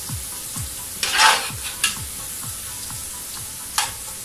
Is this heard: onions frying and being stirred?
yes